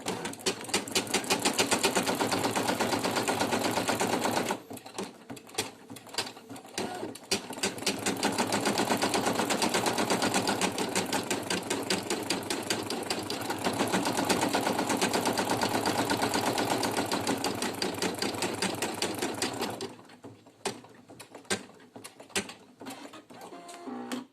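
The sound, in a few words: Brother PE800 embroidery machine stitching teddy bear applique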